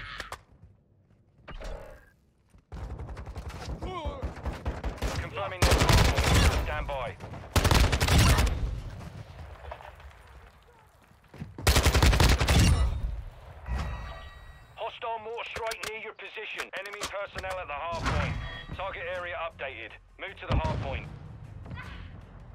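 Enemy gunfire in Call of Duty Modern Warfare 2, several loud bursts of shots spread across the clip amid intermittent voices and gameplay noise.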